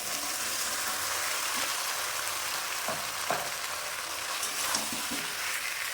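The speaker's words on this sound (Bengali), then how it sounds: "ভেজে রাখা আনাজগুলি দিয়ে দিলাম," Fried vegetables for neem shukto are tipped into a hot pan and stirred, giving a continuous dense sizzle with a few soft spatula scrapes and clicks, steady and close with nobody talking.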